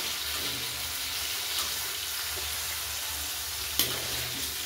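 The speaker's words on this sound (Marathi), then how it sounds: "आपल्याला इतपत फ्राय करायचं आहे, जास्त फ्राय नाही केलं मी त्याला." Paneer pieces frying in a pan with a constant close sizzle and gentle stirring, plus one sharp utensil knock near the end.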